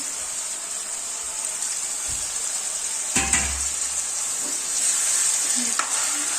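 Banana stem cooking with local chicken in a pan, a steady hiss of sizzling with a loud scrape and clatter of stirring partway through and a few lighter knocks later, heard close up.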